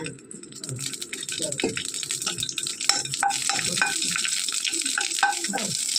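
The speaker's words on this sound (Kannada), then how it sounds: "ಅದೇ ಬಾಣಲೆಯಲ್ಲಿ 2 ಮೆಣಸಿನ್ಕಾಯಿನ ಒಂಚೂರು ಎಣ್ಣೆ ಹಾಕಿ ಫ್ರೈ ಮಾಡ್ಕೋಬೇಕು." Two green chillies frying in a little oil in a pan, an irregular crackle and sizzle with clinks and stirring scrapes, fairly faint and close.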